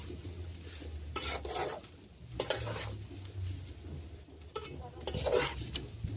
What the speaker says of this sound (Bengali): নারকেলটাকে নাড়তে থাকবো ধীরে ধীরে